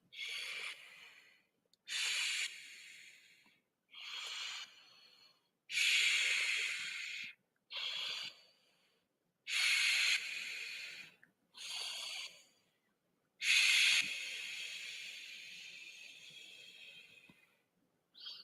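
A group doing a breathing exercise together in a purification ritual, following a leader: about eight loud, forceful breaths in and out, each lasting a second or two, separated by short silent pauses.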